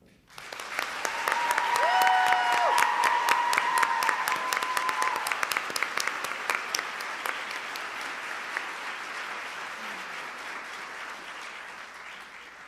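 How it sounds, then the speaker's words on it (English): Audience applause at a Halloween royal ambassador coronation ceremony in Anoka, Minnesota, swelling to a loud, sustained burst of clapping that slowly thins out, with some brief cheering or whooping near the start. "Please join me in thanking them with a round of applause."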